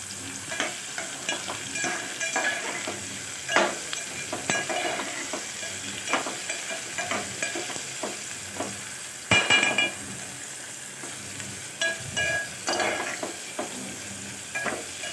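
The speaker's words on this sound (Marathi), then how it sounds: "थोडंसं मीठ टाकायचं, मी कांदा पटकन भाजतो।" Sliced onion fries in a pan with a pinch of salt for veg pulao, a steady sizzle punctuated by frequent utensil scrapes and clinks against the pan, close and alone.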